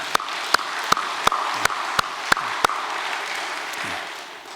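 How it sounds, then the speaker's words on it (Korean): An audience at a Korean-Japanese sister-city event claps in a steady rhythmic pattern, about eight sharp hand claps over a soft background murmur that fades toward the end. "그날 행사를 위해서 수고한 분들께 박수를 다시 한번 보내 올리겠습니다"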